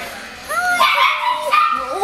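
A small puppy yips and whimpers in high, thin, rising cries, several quick calls close by, with a person speaking softly alongside.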